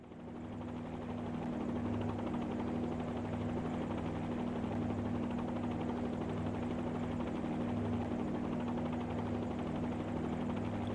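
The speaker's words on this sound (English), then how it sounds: "I'll first lift the helicopter into a hover." A helicopter hovers in a flight simulator game, its engine whine and rotor drone holding steady and even throughout after a brief rise at the start, moderately quiet with no talking.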